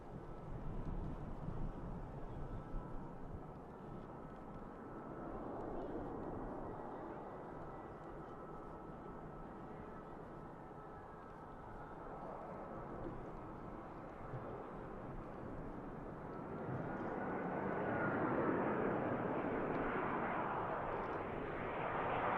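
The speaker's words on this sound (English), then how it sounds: "The rather clamshell reverse thrust being brought into play here." An EasyJet airliner lands at Manchester Airport, its clamshell reverse thrust building into a broad, distant engine roar that swells toward the end, with wind buffeting the microphone.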